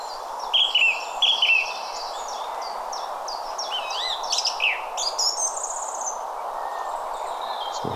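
Several birds chirp and trill in bright bursts over a steady outdoor hiss near woodland at Red Scar Woods, moderately close, with no one talking.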